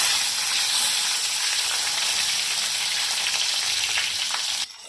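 Green chilies and garlic frying in oil in a pan, giving a loud, steady sizzle and hiss that runs unbroken for several seconds before dropping off abruptly near the end, with no talking.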